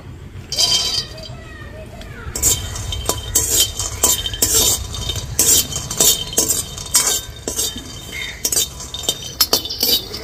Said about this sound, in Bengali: আমি এখানে কিছু চিনে বাদাম নিয়েছি, শুকনো খোলায় ভেজে নেব।